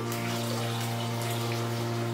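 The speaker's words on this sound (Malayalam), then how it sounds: "ഞാൻ 1/2 ലിറ്റർ പാലാണ് എടുത്തിരിക്കുന്നത് കേട്ടോ. അതിനകത്തോട് ഞാൻ ഒഴിക്കുവാണേ." Half a litre of hot milk is poured into cooked sago in a pot while making chavvari payasam, a steady liquid gush with a continuous low hum running underneath throughout.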